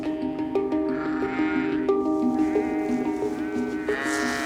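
Sheep and a newborn lamb bleat on a farm, repeated wavering cries overlapping at close range, loud and steady with no talk over them.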